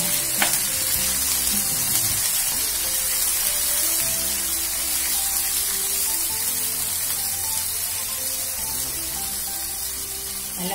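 Tomato, onion and ginger-garlic paste fry in hot oil with a steady, dense sizzle and occasional stirring scrapes, loud and continuous throughout, with no voices.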